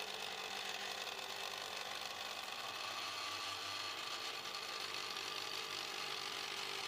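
A 3D printer with a granule extruder prints sugar at about 20 mm per second. It gives a steady, faint mechanical whir with a broad hiss, droning continuously and evenly with no voices.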